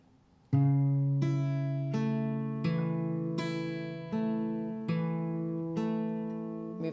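A fingerpicked acoustic guitar line played alone with clear plucked notes and ringing bass, with new chord shapes sounding about once a second and each note left to sustain.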